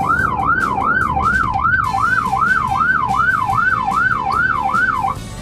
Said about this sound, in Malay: tidak memberi laluan kepada ambulans yang sedang dalam emergency